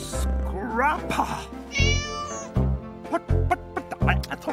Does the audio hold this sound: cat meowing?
yes